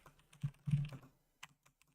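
Computer keyboard keys tapped while writing code in Gamemaker, a short burst of close, soft clicks followed by a few isolated keystrokes, heard alone.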